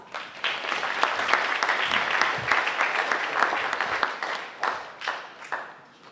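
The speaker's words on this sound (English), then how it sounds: "Please give him a round of applause." Audience applause for a speaker at an entrepreneurship lecture, a steady wash of many hands clapping in a room, fairly close, with a few sharper individual claps standing out and fading slightly toward the end.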